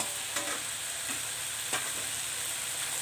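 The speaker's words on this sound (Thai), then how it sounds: "ผัดไปเรื่อยๆเลยนะคะ" Chicken with sliced red chili stir-fries in a pan, with a continuous close sizzle and a few scraping stirs of the utensil.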